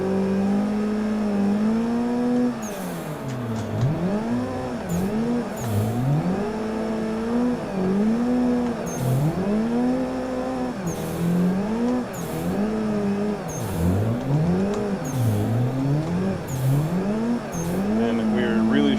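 A race car drifts in Assetto Corsa, its engine revving and dipping in repeated waves as the handbrake is yanked through transitions, with intermittent tire squeal. Someone talks over it throughout.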